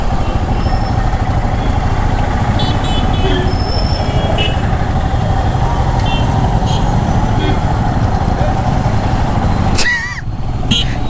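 Royal Enfield Himalayan BS6 motorcycle riding on a road in Tamil Nadu, a continuous engine drone mixed with heavy wind rush throughout, ending in a brief dip and a sweeping whine.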